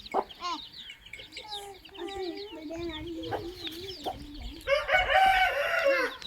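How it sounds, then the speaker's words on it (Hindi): A village rooster crows repeatedly in close succession, its drawn-out calls cutting in clearly over clucking hens and other farmyard fowl, loudest near the end. "ओ मुर्गा खलासाना देंदा फिरदा बांगा देंदा फिरदा आवाज़ा देंदा फिरदा"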